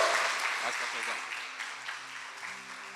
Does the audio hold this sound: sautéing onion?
no